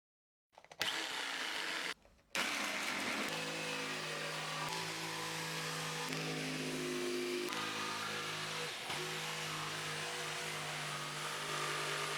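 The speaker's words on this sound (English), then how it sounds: "then cut it with a jigsaw" A jigsaw cutting the edges of a plywood sculpture starts with a brief burst, pauses, then buzzes loudly and continuously for about ten seconds, its pitch shifting slightly as the blade works through the wood.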